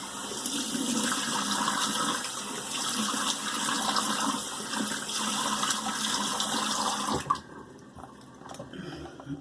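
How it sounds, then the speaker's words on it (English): Steady rushing of running tap water splashing into a basin, continuous and close, then cutting off abruptly near the end. "Okay, cold water rinse."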